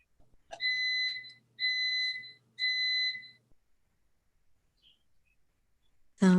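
Baking oven beeping indoors, three sustained electronic tones spaced about a second apart, clear and moderately loud in a quiet room, followed by silence.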